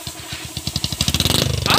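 A motorcycle engine, converted from 155cc to 175cc, revving up close, its loud rhythmic pulses quickening and rising in pitch over under two seconds.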